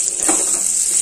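Onion hitting hot oil in a pan while cooking Filipino chicken lugaw with garlic, a loud close hissing sizzle that holds steady throughout.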